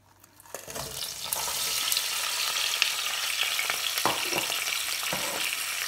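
Onion frying in oil reused from frying fish, in a saucepan: a steady bright sizzle that starts quietly and quickly builds into a constant crackling hiss, with a few soft clunks of stirring.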